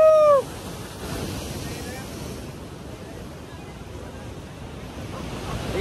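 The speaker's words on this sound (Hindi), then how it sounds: "आप देख सकते हो यहाँ पे बहुत ज्यादा पानी आ रहा है" Monsoon sea waves wash in at a beach in Daman, India, a steady broadband surf roar with wind noise on the microphone, continuous and fairly loud throughout after a brief louder opening moment.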